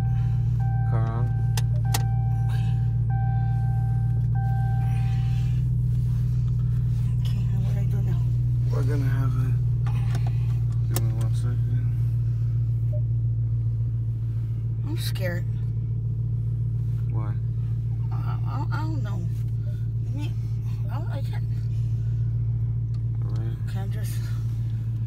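A Dodge Charger Red Eye sits idling after start-up, its steady low engine rumble running continuously throughout, with people talking inside the car over it and a brief electronic chime near the start.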